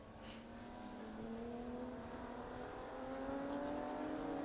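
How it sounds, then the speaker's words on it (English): Ferrari race cars at the Estoril circuit's chicane during a classic car meeting, a distant engine note that rises steadily as the cars accelerate uphill out of the corner, faint and continuous with no talk. "we're watching the Ferraris go through the chicane there, up the steep hill"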